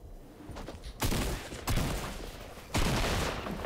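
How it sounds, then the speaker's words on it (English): Shotgun blasts in the video game Fortnite, three loud booming shots spaced about a second apart over a steady background of game noise, with no talking. "Wait, why did it shoot the shotgun?"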